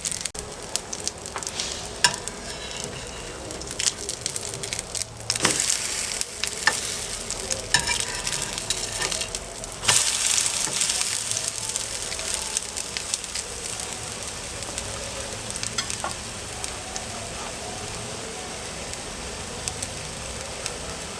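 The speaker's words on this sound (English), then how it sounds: "So let them to cook on the other side, then they will be ready to be removed from the heat." Milk powder drop scones fry on their second side in a hot pan, a loud, dense, continuous sizzle with crackling bursts and occasional sharper clicks, close and without speech.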